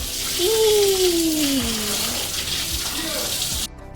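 Water splashes and pours steadily and close by while someone is bathed, with a voice speaking over the sloshing.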